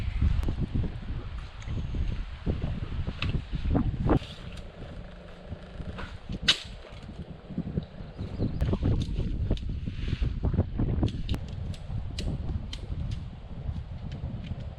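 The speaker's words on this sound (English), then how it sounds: "Definitely some more wind and clouds moving in though." Wind gusting through a burnt forest at a wilderness campsite as clouds move in, a steady rushing roar with buffeting on the microphone and a few faint rustles, continuous throughout with no talk.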